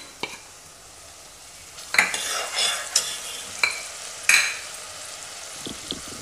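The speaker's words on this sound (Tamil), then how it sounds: "இஞ்சி பூண்டு பேஸ்ட் போடுறேன்" Ginger garlic paste sizzles in a frying pan for a prawn sukka, a steady hiss broken by several sharp scraping stirs of a spoon against the pan, close and fairly loud.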